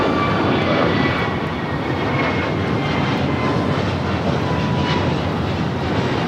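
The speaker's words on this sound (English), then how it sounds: "753 taking off to Atlanta on the A321neo." An American Airlines Airbus A321neo takes off from LAX, bound for Atlanta, with a loud, steady broadband jet roar that holds constant throughout with no voices.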